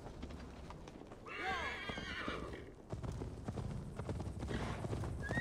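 Horse hooves clip-clop steadily as a rider travels on horseback in Assassin's Creed Valhalla, with a horse neighing loudly partway through and faint voices underneath.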